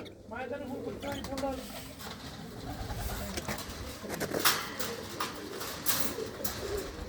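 Pet farm pigeons coo softly at a pigeon club in Mansa, under steady close-up talk and background clatter.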